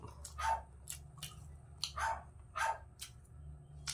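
Neighbour's small puppies barking, a series of short sharp yaps in uneven bursts, faint and somewhat distant against a quiet background.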